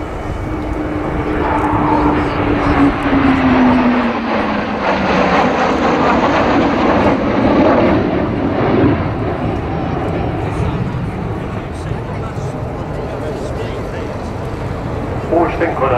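English Electric Canberra jet bomber flying past at an airshow, a loud continuous engine roar with a falling whine as it passes, steady and broad throughout.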